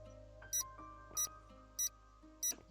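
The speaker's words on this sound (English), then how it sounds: "So pay attention to the beeping." A Nancy Drew game's signal tracker gives four evenly spaced, bright electronic beeps, about one every 0.65 seconds, over a steady low game hum and soft tonal background music.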